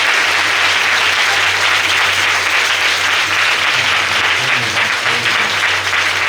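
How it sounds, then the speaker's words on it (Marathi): A church congregation at a Sunday prayer meeting claps loudly and continuously, a dense, even wall of applause that holds steady from start to finish, with a low hum beneath it. "जोरात टाळी वाजवून देवाला धन्यवाद कर"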